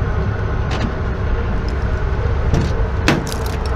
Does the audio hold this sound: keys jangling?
yes